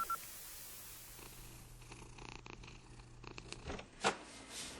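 A cat purrs softly and steadily through a low background scene in a sci-fi audio drama, with a brief louder rustle near the end.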